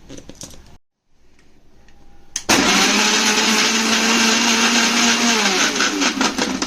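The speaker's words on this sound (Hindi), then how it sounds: "एबे ताकू ग्राइंड करना।" A kitchen mixer grinder whirs loudly as it blends rabidi lassi ingredients with ice cubes for an Odisha-style drink. Short clicks and handling come first, then a brief silence, and then the motor roars at a steady high pitch to the end.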